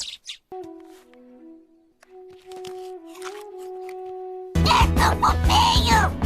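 A baby bird in an animated scene chirps in short, thin tweets and sustained whistle-like calls, fairly close and clear, followed by a louder, busier burst of sound near the end.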